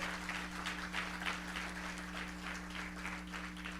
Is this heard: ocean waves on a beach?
no